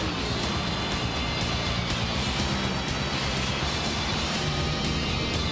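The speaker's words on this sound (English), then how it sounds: "Listen to these beautiful cars." Racing cars roar around the Indianapolis Motor Speedway oval mid-race, a dense, steady engine drone with repeated passing surges, loud and continuous with no talk.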